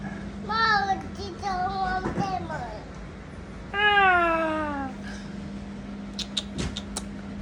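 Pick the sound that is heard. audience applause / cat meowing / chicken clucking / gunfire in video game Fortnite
cat meowing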